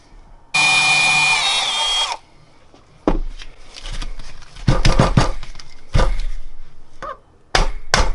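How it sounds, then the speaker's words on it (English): A drill bit bores into a Keihin carburetor part from a Kawasaki KZ750 during a rebuild, one steady whirring burst early on, then a string of louder, uneven knocks and grinding bursts, close and alone. "I'm only gonna go, let's say, half the drill bit, maybe a little less to be safe."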